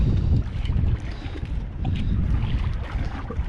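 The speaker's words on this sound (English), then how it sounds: "It's a little windy out today" Strong wind over Chesapeake Bay buffets the microphone outdoors in gusting, roaring waves, loud and close, with no voices.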